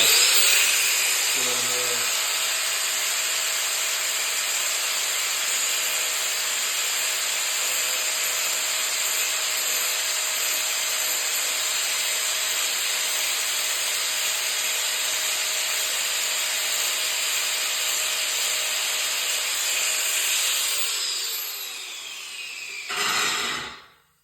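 An angle grinder with a cutoff disc grinding the metal of a chopper motorcycle exhaust pipe, a loud, steady high-pitched whine and hiss that holds for over twenty seconds before spinning down at the end.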